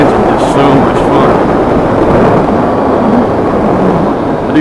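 Yamaha XSR900 motorcycle engine, 2018 model, running steadily during a ride, a loud continuous roar mixed with wind rush throughout.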